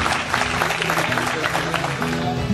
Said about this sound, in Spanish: Fuerte el aplauso para este proyecto